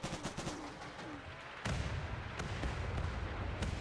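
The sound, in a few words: rockets fired at an enemy in video game RimWorld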